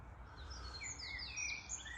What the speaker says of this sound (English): you can hear lots and lots of bird life, blue tits, great tits